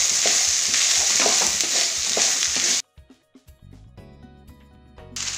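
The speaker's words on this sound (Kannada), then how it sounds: "ಮಿಕ್ಸ್ ಮಾಡ್ಕೊಳ್ಳೋಣ ನೀಟಾಗಿ." Stirring a cooked peas mixture in a hot pan for samosa filling gives a loud frying sizzle with scraping spoon strokes, then the sizzle cuts out, leaving a few sharp knocks and clinks.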